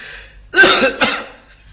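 A sick elderly man in an old Pakistani Punjabi drama coughs twice, a strong harsh burst followed by a shorter second one, close and clear with no talk.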